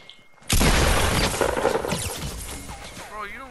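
A sudden loud burst of enemy gunfire and booming hits erupts in a video game, staying heavy and sustained for a few seconds while faint chatter comes through.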